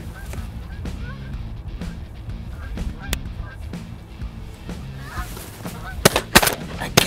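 Canada geese honk repeatedly in flight over a steady low rumble, with a few sharp loud bangs near the end like gunshots.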